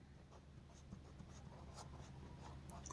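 A pen writes on a fresh line of paper while a physics numerical is worked through, producing faint, close, scratchy strokes in short irregular bursts with steady low background noise.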